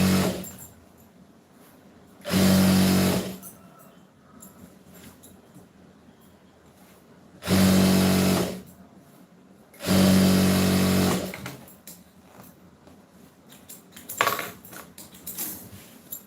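A sewing machine stitches a blouse neckline in three loud mechanical bursts of rapid whirring, separated by quiet pauses, with a shorter fainter burst near the end.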